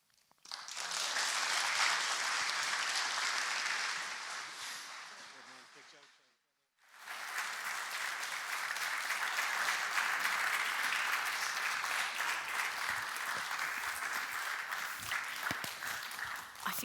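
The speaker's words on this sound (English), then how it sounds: "I think another round of applause for Seamus, everyone." An audience at the official opening of a summer school bursts into loud, sustained applause that lasts several seconds, briefly dies away, then swells again into another long round of clapping.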